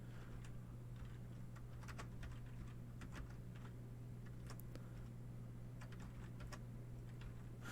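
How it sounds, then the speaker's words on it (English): Fairly quiet keystrokes tapped on a computer keyboard in uneven bursts of clicks, with a steady low electrical hum running underneath the whole time. "no, I'm typing poorly."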